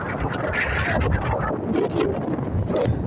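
Strong wind on a river buffets the microphone beside a small fishing boat out in choppy water, a continuous loud roar of gusts lasting throughout.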